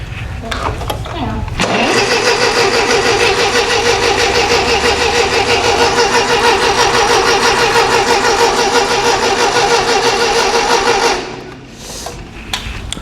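A vintage Ferguson TEA20 tractor, a barn find, cranks and fires, then runs at a steady, loud idle for about nine seconds before shutting off, with brief talk before and after.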